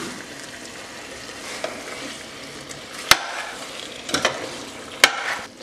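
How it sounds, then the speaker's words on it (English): Chicken curry with diced peppers being stirred in a pot over medium heat: a soft, steady sizzle runs throughout, broken by a few sharp spoon clinks and scrapes near the end. "Give that a good stir again."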